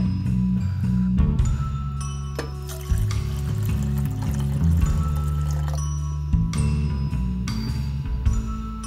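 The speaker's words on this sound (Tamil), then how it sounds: "ஒரு பேன்ல அரை லிட்டர் பால் ஊற்றிக்குங்க." Half a litre of milk is poured into a pan in a continuous close liquid stream, steady and fairly loud over about nine seconds, with a few small clinks along the way.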